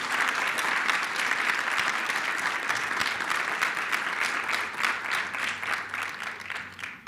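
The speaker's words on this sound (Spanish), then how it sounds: "creo que merita un aplauso muy importante" Warm, steady applause from an audience at a national public-budget seminar, a dense continuous clapping that holds evenly throughout and eases slightly near the end.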